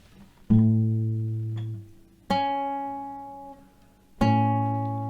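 A two-note guitar chord is struck three times, each ringing out clearly and slowly decaying before the next strum.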